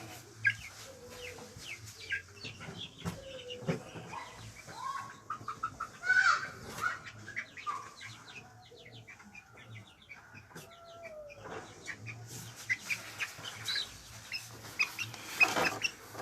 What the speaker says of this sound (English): Finally, this is a male bantam.